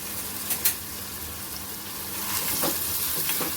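Chopped onion with salt sautés in a pan for veg bhurji, giving a soft, steady sizzle with a few light stirring clicks.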